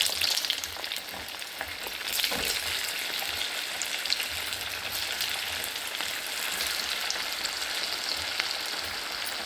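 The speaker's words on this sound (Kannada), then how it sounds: "ಇದೆಲ್ಲ ಫ್ರೈ ಆಯಿತು ನೋಡು" Cabbage manchurian balls deep-frying in hot oil give a steady, dense crackling sizzle that holds evenly throughout, close and fairly loud, with no one speaking.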